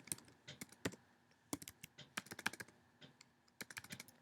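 Computer keyboard keys clicking in bursts of quick, close typing, logging into a screen-recording program, with short pauses between runs of keystrokes.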